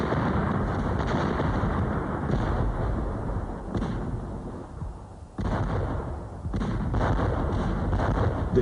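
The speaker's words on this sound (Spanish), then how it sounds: "la artillería británica lanzó grandes explosivos sobre las posiciones alemanas en un bombardeo" A 1916 British artillery bombardment of German positions, with guns up to heavy 38 cm howitzers, makes a continuous, loud rumble of overlapping distant blasts and thuds. Several sharper booms punch through the roar.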